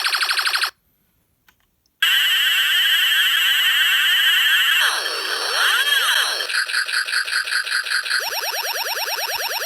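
An E-Blox Circuit Builder integrated circuit blares its Space War sound effect, a loud, harsh electronic alarm-like tone that cuts out briefly, then returns with warbling sweeps and fast repeating pulses.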